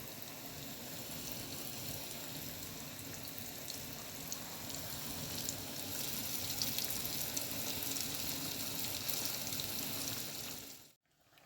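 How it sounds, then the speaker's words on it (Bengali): Battered chicken popcorn pieces fry in hot oil with a steady, even sizzle and fine crackle that holds for about ten seconds, close and moderately loud, then cuts off abruptly. "এখন তেলে দিয়ে দিচ্ছি।"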